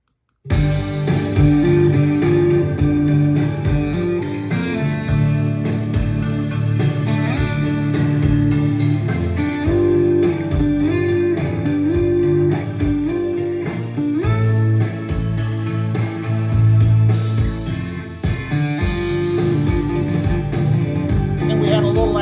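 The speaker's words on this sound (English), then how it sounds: "So here's the sound of the final chorus." A loud, full-band song chorus with driving drums, bass, guitars and sustained vocals, playing steadily throughout.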